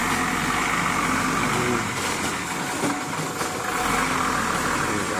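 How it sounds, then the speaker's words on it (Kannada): A truck engine idles steadily and loud throughout, a constant low rumble with slight swells, as the vehicle pulls in to a loading spot. "ಸೊ ಈ ಗಾಡಿ ಒಳಗಡೆ ಬಂತು"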